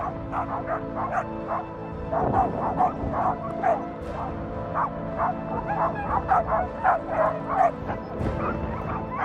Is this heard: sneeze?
no